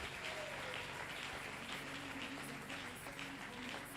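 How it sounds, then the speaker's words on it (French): A church congregation applauds together, a steady, continuous wash of clapping that is faint and distant, holding an even level with no breaks. "On acclame au nom de Jésus"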